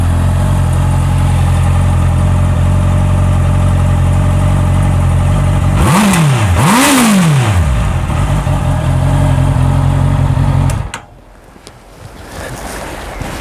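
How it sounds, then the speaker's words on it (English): Honda CB650F motorcycle engine idling steadily up close, then two quick throttle blips rising and falling before the engine is shut off, leaving quiet background. "Let's fire her up. So blip that throttle a couple times and see what it sounds like."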